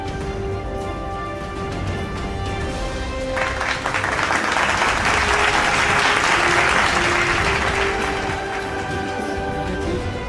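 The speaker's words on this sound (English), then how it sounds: "Get a huge round of applause, please," Sustained audience applause at an awards ceremony for the Director of the Year winner, a broad wash of clapping that swells to a peak and then eases off, with no talk over it.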